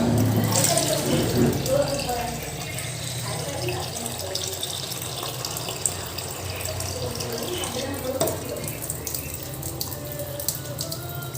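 A tap runs steadily and close by while fish are washed, with light splashing and occasional clatter over the continuous flow.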